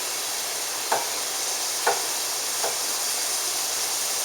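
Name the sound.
food cooking and sizzling in oil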